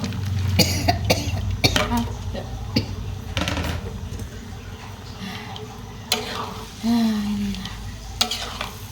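Sambal goreng of liver, gizzard, beef skin and tempeh sizzles in a pan with spatula scrapes and stirring clatter, plus a few coughs and brief voices around it.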